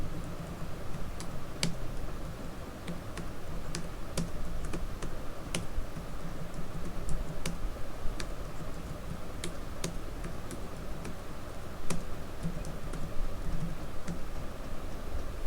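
Steady typing on a computer keyboard while entering names in MS Word, with crisp, irregular key clicks and occasional heavier strokes over a continuous low room hum, close and moderately loud for the whole stretch.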